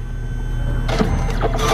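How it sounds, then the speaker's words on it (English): A photo booth printer at a DJ gig setup starts up with a steady mechanical whir, then grows louder with busier feed and cutting noises partway through as the prints come out, heard up close with no talking. "Go over here, printer starts printing"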